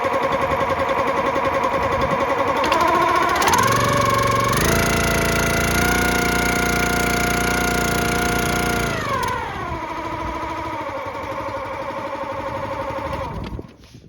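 Small gas engine on a Countyline 25-ton log splitter running steadily, then throttling up to full speed with a rising, louder drone that holds for several seconds before easing back down, close and alone without any talk.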